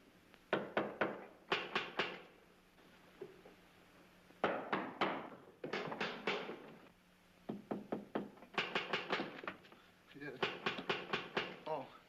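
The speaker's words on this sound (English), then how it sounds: "All right, now tap, each one of you." Several men rap on the walls of an old house in a 1939 comedy film, searching for trap doors: irregular clusters of loud, close knocks and thuds, separated by brief quiet gaps, with some talk.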